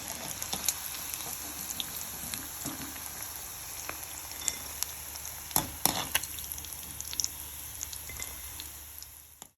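Prawn 65 frying in hot oil at home, a steady crackling sizzle with scattered sharp pops and spits throughout, fairly close and even, with no talking.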